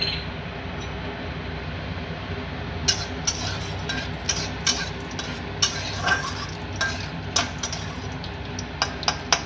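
Panch phoron seeds with a dried red chili crackle in hot oil, then a spoon scrapes and taps the pan in a quick uneven rhythm over a constant sizzle, close and fairly loud.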